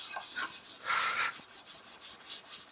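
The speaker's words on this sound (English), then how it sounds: "Getting right into the corner is a little tricky. Got to do it by hand." A red Scotch-Brite pad scuffs the corner of a DIY fan shroud for a rear-mounted radiator by hand, making close, rapid, rhythmic back-and-forth rubbing strokes.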